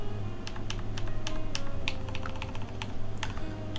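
Typing on a KMAC LE mechanical keyboard with lubed MX switches, Deskeys films and an aluminum plate, GMK keycaps: a steady run of crisp, close keystrokes over a low background hum, no voices.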